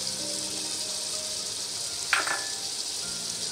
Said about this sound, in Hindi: दही डालकर मैं इसको 2 मिनट भूनूंगी